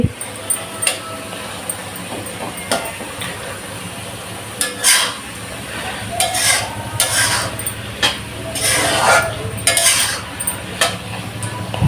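Spinach curry with its tempering is stirred in a pan over heat, with repeated close scraping strokes of the spoon and a faint frying crackle underneath, alone without talk.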